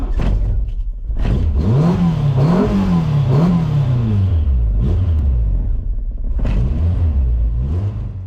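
A car engine revs repeatedly as the gas pedal is pressed, just after a spark plug and idle air control valve replacement, rising and falling in loud close surges with a brief lull before a final rev.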